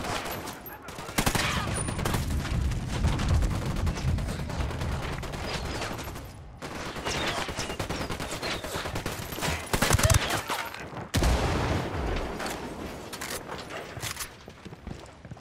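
Sustained gunfire rattles through a firefight in Ghost Recon Wildlands, loud and dense with overlapping bursts and heavier booms, broken by brief lulls around the middle and near the end.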